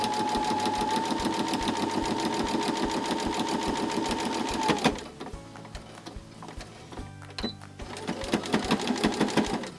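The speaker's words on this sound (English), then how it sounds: "Now I'm going to stitch the other side, again, really close to that fold." A sewing machine stitches the seam of a drawstring bag close to the fold, running in a steady, loud mechanical whir for several seconds, pausing briefly, then starting up again in short bursts.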